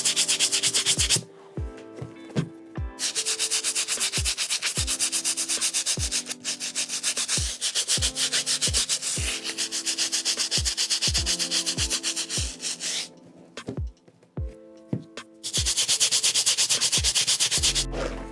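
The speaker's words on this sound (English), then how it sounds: "Nice and back and forth. You don't need to press too hard. Let the brush do the work" A stiff brush scrubbing a sneaker's sole and midsole back and forth, giving repeated scratchy rasping strokes in a steady rhythm with a few brief pauses, close and loud.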